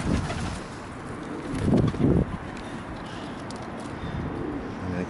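Pigeons give low, soft cooing, close by, under steady wind and outdoor background noise, with a few faint chirps.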